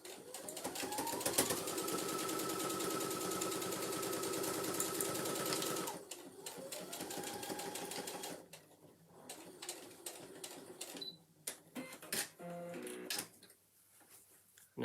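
A domestic sewing machine stitches a handbag seam, a steady loud whirring run for about six seconds, a shorter second burst, then the motor stops and only quiet handling clicks and rustles remain.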